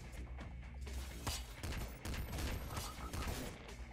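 Rapid bursts of gunfire from the video game Nuclear Throne with an Ultra mod, dense overlapping shots and impacts that keep going without a break, fairly quiet overall.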